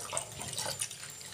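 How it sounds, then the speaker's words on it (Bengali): Rice being rinsed in water in a home kitchen gives a soft, close splashing and trickling that runs quietly through the whole brief moment. "এদিকে চালটাও ধুয়ে নিচ্ছি"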